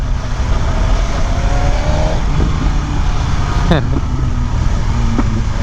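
An unlocked BMW S1000RR sport motorcycle drones steadily with a thin, whiny exhaust note, a brief rising rev sweep partway through, with a voice talking over it.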